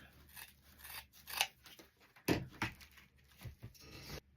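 Scissors snip and slide through deco mesh ribbon while a pouf is being made for an Easter bunny wreath, giving several crisp cuts with rustling and handling noise between them.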